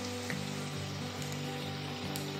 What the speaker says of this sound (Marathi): दोन्ही साइडने अगदी छान तळून घ्यायच्या आहेत या।